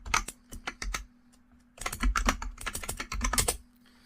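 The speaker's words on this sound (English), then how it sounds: "So if I type nmap with the target server," Fingers type an nmap network scan command on a computer keyboard in two bursts of quick, close key clicks separated by a short pause, with a faint steady hum underneath.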